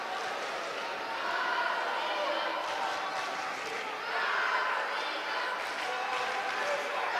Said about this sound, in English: The Polish contingent cheering on Karolina KUHN